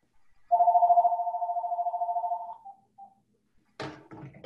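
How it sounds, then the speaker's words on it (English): A telephone rings with an incoming call, one long steady electronic trill lasting about two seconds, loud and close, followed by silence and a brief rustle. "pardon me, phone's coming in."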